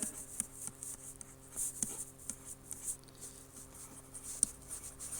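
Chalk or marker scratches and taps across a board during an accounting lecture, faint and intermittent, with short strokes and clicks over quiet room hiss.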